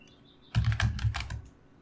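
A quick burst of typing on a computer keyboard while building a simple website, several close, crisp key clicks in a tight cluster lasting about a second, with no talk over them.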